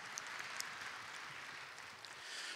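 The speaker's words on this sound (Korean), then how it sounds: "하나님께 영광의 박수 올려드리겠습니다." Congregation applause during a Sunday morning church service, a continuous soft wash of many hands clapping, fairly distant and even, with no talk over it.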